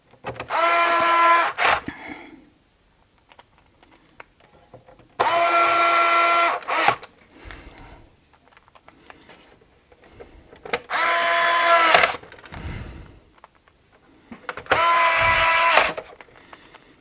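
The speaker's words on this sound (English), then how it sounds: "Just going to get a couple of these screws in" A power driver runs screws into a PS5 console in four steady whirring bursts of about one to two seconds each, separated by quiet pauses, loud and close.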